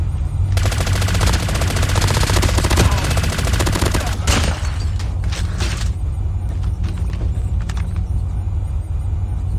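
Sustained automatic gunfire crackles in a Fortnite-style shooter game, loud and dense at first and then breaking into scattered bursts over a steady low rumble.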